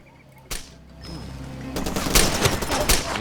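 A sniper rifle in the video game Far Cry 2 cracks out one sharp shot, followed a moment later by a louder rattle of overlapping gunfire that carries on to the end.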